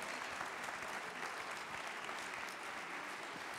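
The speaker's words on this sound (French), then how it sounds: "Allez, on les applaudit très très fort." A live audience claps loudly and steadily for the cooks at a Cuisines en Scènes cooking event, a dense, continuous wash of many hands with no voices standing out.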